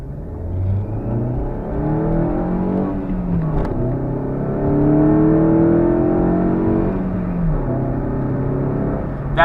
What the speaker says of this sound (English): Guess we'll get one more little pull here since we're coming up to a stop sign.